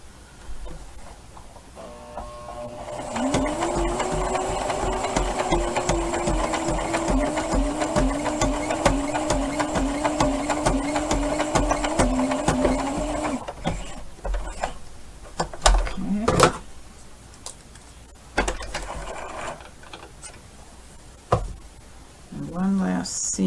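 A close sewing machine runs a seam on gloves made from sweatpants with a steady rhythmic whir for about ten seconds, followed by handling clatter and brief voices.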